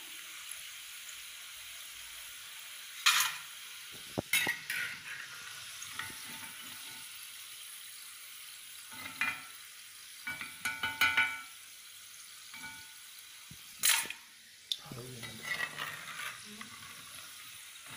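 Jackfruit chips fry in hot oil in a quiet, low sizzle, while a spoon scrapes and clinks against the pan in scattered bursts.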